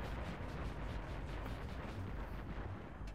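Aircraft weapons fire in the Battlefield 3 co-op mission Fire from the Sky, heard as dense, rumbling bursts and booms that roll on continuously without a break, with no voices.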